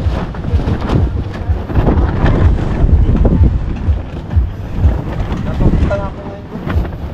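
Wind buffets a small fishing boat at sea, a loud, rough rush with thumping gusts and creaks, while people talk nearby.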